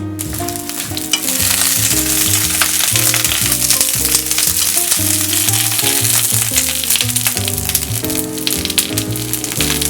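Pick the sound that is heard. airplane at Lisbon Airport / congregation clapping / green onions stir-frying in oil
green onions stir-frying in oil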